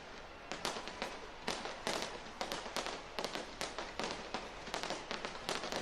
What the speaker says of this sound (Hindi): जमकर आतिशबाजी की जा रही है।